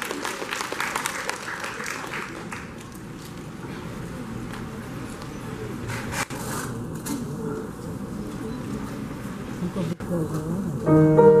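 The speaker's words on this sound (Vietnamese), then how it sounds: "Xin một tràng pháo tay cho chị Nhuận" An audience breaks into sustained, fairly loud applause, a dense stretch of clapping that holds steady for about eleven seconds with no speech over it.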